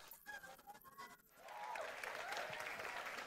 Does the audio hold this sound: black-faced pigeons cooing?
no